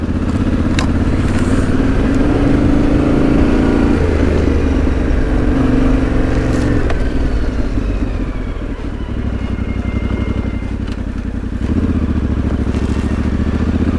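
An adventure motorcycle rides along a muddy country lane in South Suffolk in autumn, its engine droning steadily up close with rising and falling revs, plus occasional clatter and knocks.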